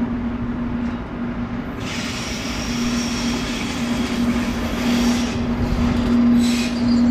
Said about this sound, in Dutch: Een 420 en een 620 weer als vastkoppel voor deze trein.